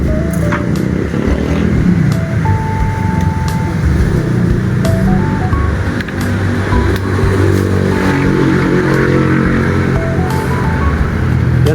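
A motorcycle engine treated with F2R additive runs loud and close, its pitch rising and falling as it is revved repeatedly over nearly twelve seconds.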